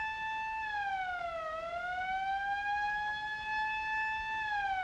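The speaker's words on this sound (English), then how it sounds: "That police siren." Police siren from a 1947 film, a steady clean wail sliding slowly down and back up, heard alone at moderate distance without voices.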